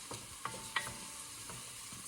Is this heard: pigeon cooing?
no